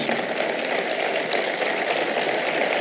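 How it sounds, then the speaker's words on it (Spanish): A church congregation at a conference applauds in a dense, steady wash of many hands clapping together. The sound holds at an even loudness from start to end, with no speech on top. "Aplaudo lo más fuerte."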